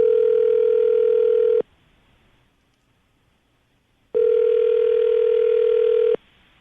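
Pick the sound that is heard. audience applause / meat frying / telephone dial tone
telephone dial tone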